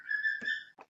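A pet bird whistles a short, steady, clear note lasting most of a second, broken by a brief soft rustle and a final short chirp, all close and fairly quiet.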